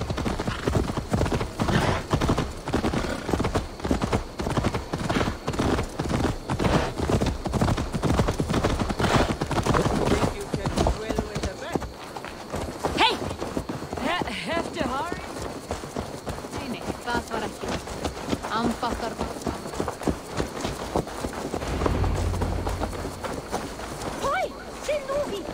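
Horse hooves clop in rapid, rhythmic succession in Assassin's Creed Valhalla, a steady galloping beat that later slows, mixed with game voices talking over it.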